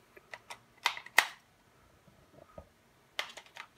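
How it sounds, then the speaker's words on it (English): Glade air freshener sprayer wired into a pumpkin gadget runs its test fire, giving a few sharp mechanical clicks and snaps close by, a pause, then another quick cluster of clicks. "Whenever you plug in the Glade sprayer, it automatically does one test fire."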